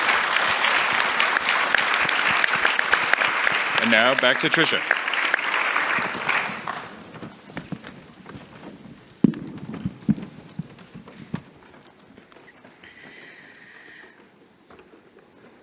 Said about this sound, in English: if you can all join me in giving the panel a big round of applause